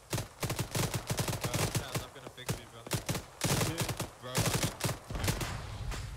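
Rapid gunfire in Arma 3 as shots rake the wheels of a BTR armored vehicle: sharp, loud bursts and single cracks in a fast, uneven rhythm, close and continuous, with no talk.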